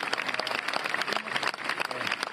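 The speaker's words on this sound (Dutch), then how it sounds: "begint met applaus voor de vermoorde leraar" Applause for a murdered teacher opening a silent march in Conflans-Sainte-Honorine near Paris, dense sustained clapping from a large crowd, loud and even throughout, with a faint voice underneath.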